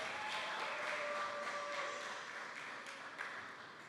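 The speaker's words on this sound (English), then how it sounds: "Let's give her another round of applause." Audience applause at a primary school graduation, a dense, even wash of many hands clapping that holds steady and tapers slightly toward the end, with no voices standing out.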